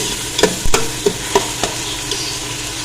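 Chopped onions fry in oil in a pot for Lahori goat trotters, with a soft steady sizzle under a few sharp stirring clanks from a spoon.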